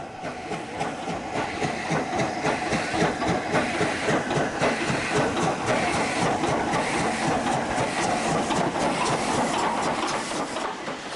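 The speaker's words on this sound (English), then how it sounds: "Standing next to a railway line as one of these magnificent machines thunders past" A steam train rumbles by with a rhythmic chuffing and clattering wheels, building and holding loud and close before easing slightly.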